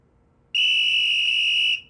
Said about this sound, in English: no whistle at the table